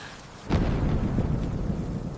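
Thunder rumbles during a rainy storm with lightning, with a deep roar that swells suddenly and then sustains loud and close under steady rain noise.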